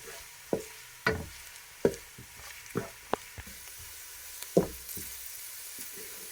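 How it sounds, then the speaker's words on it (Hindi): Carrots cooking in a pan for vegetable chicken spring roll filling, a soft sizzle under a string of sharp spatula knocks and stirring scrapes at uneven intervals. "गाजर को मैं 5 मिनट तक पकाऊंगी ताकि ये थोड़ी सी गल जाए।"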